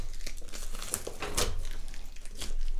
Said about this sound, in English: All the tape comes off.